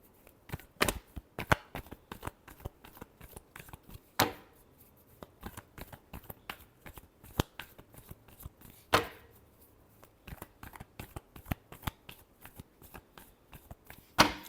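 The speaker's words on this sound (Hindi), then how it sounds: "Last shuffle." A deck of tarot cards is shuffled by hand, a quiet, close series of crisp riffling clicks and slaps with a few louder snaps at intervals, continuing steadily without any talking.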